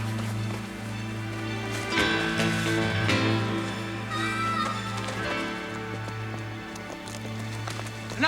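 Horses gallop off in a Western, hooves drumming in a steady running rhythm over a droning music bed, with a brief louder burst of hoofbeats near the end.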